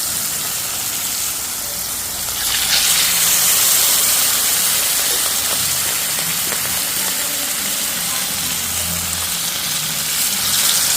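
Food fries and puffs up in hot oil, giving a steady, close sizzle that grows louder after a couple of seconds and keeps crackling and hissing throughout.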